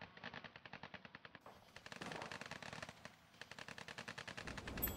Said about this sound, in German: Schießen sich hier gegenseitig ab.